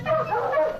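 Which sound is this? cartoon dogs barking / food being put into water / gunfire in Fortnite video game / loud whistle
cartoon dogs barking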